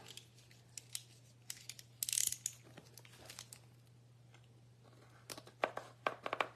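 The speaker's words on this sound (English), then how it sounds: "I'm going to have to cut this one open, so let me find my blade again here." A craft blade slicing open the plastic packaging of a paper crafting kit in quick, sharp cutting bursts with crinkling, brief pauses and a low steady hum underneath.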